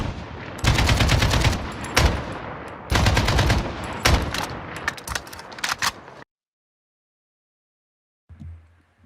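Rapid bursts of automatic gunfire in a shooter video game rattle loudly in several long volleys with brief gaps between them, then cut to silence before a faint low noise near the end.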